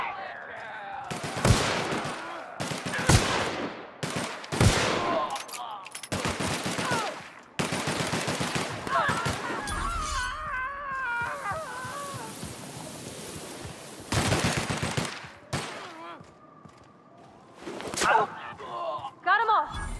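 Rapid bursts of video game gunfire and machine-gun fusillades sound in loud clusters, with a stretch of sea and boat noise between volleys and a voice shouting over the action.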